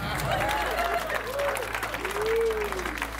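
Audience clapping and murmuring, a continuous spread of claps under intermittent talk and a low background hum.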